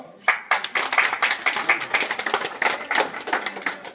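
A group at a foundation-stone ceremony for government projects claps in a quick, uneven rhythm, sharp hand claps close by and continuing throughout with no talking.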